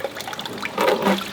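Water carrying shrimps and worms is poured into a container during marine sampling, a loud, close rushing gush that swells toward the end.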